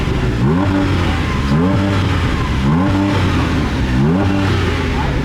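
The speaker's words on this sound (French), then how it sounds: "on fait chauffer le moteur" A Porsche GT4 RS engine warms up at the Goodwood Hill Climb on a damp day, giving a loud steady idle broken by four sharp, evenly spaced revs that rise and fall back.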